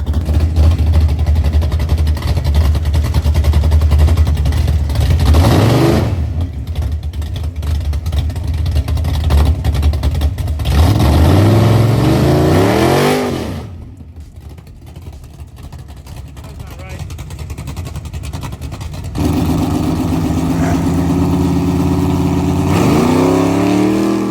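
A big-tire Chevrolet Nova drag car makes a run at the strip with loud engine roar and revving that rises in bursts and then drops off, with a quieter stretch before the engine picks up again, and voices talking over it.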